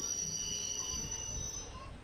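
A Kurnool to Guntur express train runs along the rails with a steady, close rumble and a thin metallic whine holding over it throughout.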